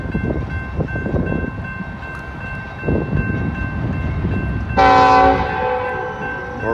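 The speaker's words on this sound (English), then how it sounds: "Norfolk Southern Intermodal" A Norfolk Southern intermodal freight train rumbles past close by, then a loud, sustained multi-tone horn blast cuts in near the end and holds over the rolling noise.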